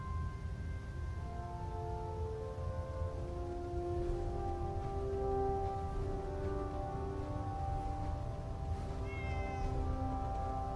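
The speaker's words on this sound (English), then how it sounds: "There's candles and a cat." A cat in Fallout 4 meows repeatedly in a long, drawn-out series of plaintive cries, close and clear over a low steady room hum.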